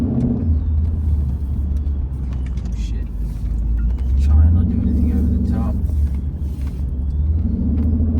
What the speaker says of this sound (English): I am driving a 2015 Jeep Grand Cherokee SRT. It's been supercharged aftermarket.